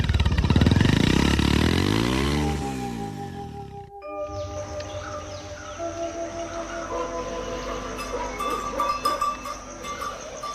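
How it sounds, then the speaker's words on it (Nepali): A motorcycle approaches loudly up close, its engine note falling as it slows and cuts off, followed by bells and livestock sounds in the background. "ओह, कुमारीको बाइकमा आएको नि।"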